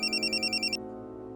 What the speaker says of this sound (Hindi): इसका फोन आ गया